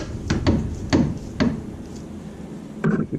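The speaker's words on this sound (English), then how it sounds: "we're going to tighten the bolt on the bottom" A 1 1/8 wrench works a bolt on a VW spring plate, a handful of sharp metallic knocks and clanks at uneven intervals, close, with a quiet pause between.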